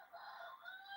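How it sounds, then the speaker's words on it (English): A rooster crows from far off in a forest setting, one drawn-out, faint call with a wavering tone, heard on its own. "You can hear the rooster probably in the background."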